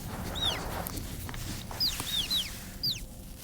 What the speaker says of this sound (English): As the naked mole rats huddle around their queen, they chirp and socialize.